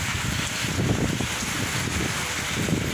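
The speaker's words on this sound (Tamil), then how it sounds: "இப்போ அதோட அதான் லைட்டாக ஒரு காற்று அடிக்குது பாருங்கள், இந்த மழையோடு சேர்ந்து அந்த காற்றும்" Light wind blowing along with steady rain, a constant soft hiss and rustle with low gusty rumble, fairly faint and unbroken, with no voices.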